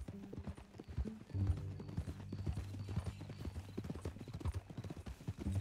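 Horse hooves clip-clopping at a riding pace in the video game Red Dead Redemption 2, a steady rhythmic patter of close hoofbeats that continues throughout.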